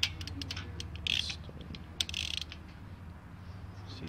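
Close mechanical clicking and ratcheting from a 3/8 ratchet tightening a valve lash nut on an O-290 aircraft engine, in a few short bursts over a low background hum.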